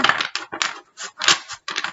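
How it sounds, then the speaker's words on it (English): Tarot cards being shuffled in quick riffling bursts, a rapid flutter of snapping paper repeated several times up close. "The cards don't want to come out that way, so we will do one more shuffle."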